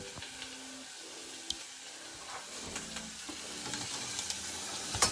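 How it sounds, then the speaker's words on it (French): Onions cooking in a pan as the first stage of a goat ragout, a soft continuous sizzle with occasional light clicks and stirring scrapes, close but fairly quiet, no voices. "on va aller vérifier que ces oignons blanchissent"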